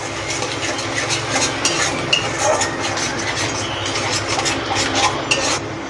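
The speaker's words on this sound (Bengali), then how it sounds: "আমি টক দইটা যে মশলা দিয়ে গুলে রেখেছিলাম ওটা এবার দিয়ে দিলাম। দিয়ে ভালো করে নেড়ে নেড়ে" A yogurt and spice mixture is stirred in a cooking pan, with steady scraping and soft clinking of a spoon against the pan over a continuous low background hum, no talking.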